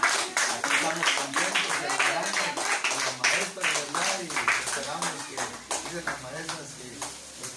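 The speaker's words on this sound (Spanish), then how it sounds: "vamos a dar un aplauso a Dios por la vida de ellos" Congregation claps during a church backpack giveaway for schoolchildren, sharp rhythmic hand claps repeating steadily and fairly loud across the whole stretch, with voices speaking and singing over them.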